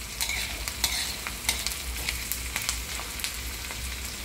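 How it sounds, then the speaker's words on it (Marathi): Onion frying in a pan while being stirred, with a steady sizzle under irregular scraping strokes of the spoon, close and fairly loud, no voices. "कांदा भाजतो।"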